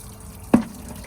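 A single drop of coolant falls from a Claas tractor's Cat engine during a repair, landing as one short, close splash against a quiet background.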